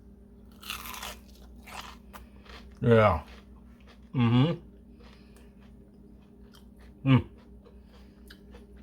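Three loud crunchy bites into fried chicken fingers at spaced intervals, each a sharp burst of crisp crunching, with a brief spoken word and quiet background between.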